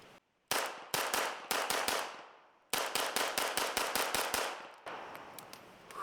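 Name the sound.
gunfire from Titus Arms TA61 Skorpion VZ61 replica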